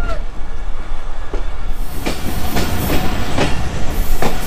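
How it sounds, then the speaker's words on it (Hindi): Karachi Circular Railway train rolling along the tracks after a brief stop, with a steady rumble and repeated clickety-clack wheel beats at regular intervals, heard close from on board. "यहाँ पे बस ट्रेन रुकी है और चली है"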